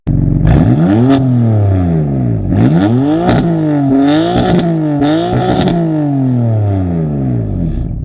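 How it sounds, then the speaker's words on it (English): A 2017 BMW M4 with its stock inline-six exhaust revs loudly and up close, several sharp climbs and drops in pitch following one another with a raspy, mechanical edge and no talking. "This is the stock exhaust, and it just has a very unique sound."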